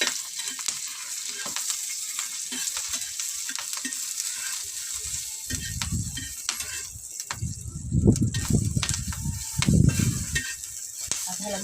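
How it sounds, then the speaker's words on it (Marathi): Oil sizzles in a pan as food fries on a village wood-fired stove, with steady hissing, bursts of louder crackling and a few scraping stirs. "थोडं तेल टाकते ह्याच्यामध्ये जरा"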